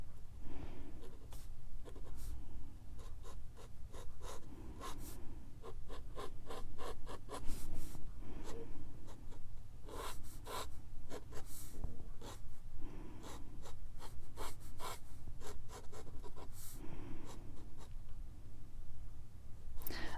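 Pen nib scratching out a light contour drawing in ink on paper, a steady series of short, close strokes running throughout at a moderate, even level.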